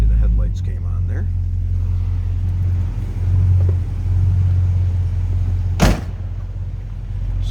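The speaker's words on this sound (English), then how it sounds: "Cars have a good sound with that 440 V8 underneath the hood" A 440 V8 engine in a 1972 Chrysler Imperial LeBaron idles with a deep steady rumble throughout, broken by a sharp thump partway through, with a voice speaking over it.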